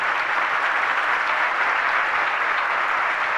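An audience at a Guru Purnima festival gathering claps steadily, a dense, even wash of applause that holds throughout without voices standing out.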